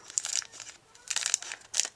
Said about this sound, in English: let's just take this out of the wrapping real quick